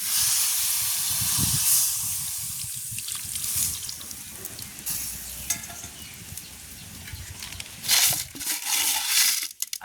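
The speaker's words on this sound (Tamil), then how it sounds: "இனி நாங்கள் தேங்காய் பாலை விடுவோம்" Coconut milk pours into a cooking pot in a village kitchen, a steady close hiss and splash of liquid that swells and fades, with brief louder gushes near the end.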